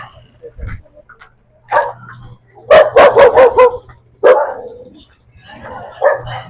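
Several dogs bark on a mountainside, with sharp bursts and a rapid cluster of loud, close barks in the middle, plus some yips, separated by quieter gaps.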